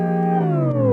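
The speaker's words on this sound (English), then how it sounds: "I reversed one of the chords and did a little pitch automation down on it" A reversed sampled chord with downward pitch automation: a sustained, rich harmonic stack that slides steadily lower in pitch across one second, loud and continuous without a break.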